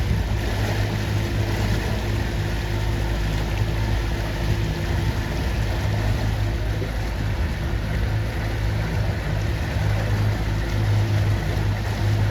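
An ILCA sailing dinghy racing in a junior regatta and holding its speed through a tack, with a continuous wash of water and wind along the hull, steady and moderately quiet, without any voices.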